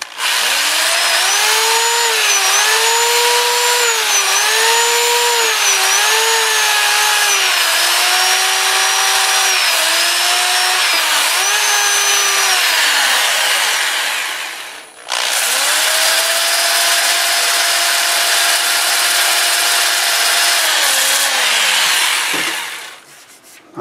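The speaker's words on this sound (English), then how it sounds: "I'll just sand this while holding it still, starting with 80 grit, and I'll work my way up through 400" Wood is sanded with 80-grit sandpaper on a lathe spinning in reverse at about 400 RPM, giving a loud continuous motor whine with wavering pitch over a rasping rub, with a short dip midway before it resumes.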